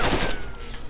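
Burst of AK rifle fire in the DayZ video game, a loud close volley of shots at the start that fades into a ringing tail within a second.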